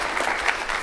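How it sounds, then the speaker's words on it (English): Brief burst of applause from an audience at a school district State of the District address, steady clapping filling the short moment at moderate loudness. "Big round of applause for the staff and the building"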